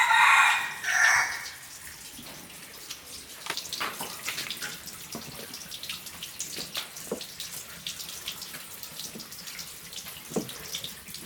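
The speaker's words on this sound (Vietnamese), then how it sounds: "Đây con gà." A chicken clucks and crows in short bursts near the start, followed by a steady watery rush and scattered clatter in the background.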